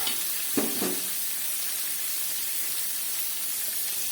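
Boiled taro stems hit a hot pan with a brief crackle, then a steady, even sizzling hiss continues close by without talk.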